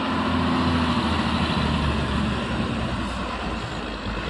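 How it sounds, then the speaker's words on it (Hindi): An Eicher truck approaches fast from behind on an Indian road, its loud, heavy engine roaring steadily up close before easing off slightly at the end. "स्पीड से आती हुई आयशर पीछे से।"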